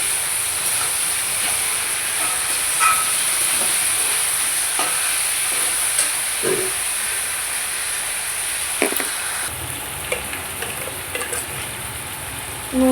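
Mutton added to hot oil with browned onions and a little sugar, frying in a steady loud hiss and sizzle with occasional clinks and stirring scrapes throughout.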